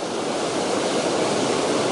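A small river swollen by heavy rain runs beneath a bridge, producing a loud, constant, close rushing roar of water with no pauses.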